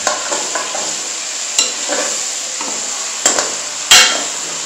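Chicken frying in oil in a karahi for Peshawari charsi karahi, stirred with tomatoes: a steady close sizzle with a few sharp metal clanks and scrapes from the stirring spoon at irregular intervals.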